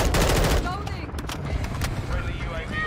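Rapid automatic gunfire rattles loudly in Modern Warfare 2, with bursts of shots and game effects under a player's talk.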